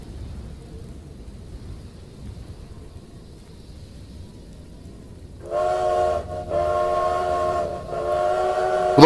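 A sleek, fancy locomotive waits in thick snow; a quiet low rumble gives way to loud, sustained train-whistle blasts, three long tones broken by short gaps, with no voices.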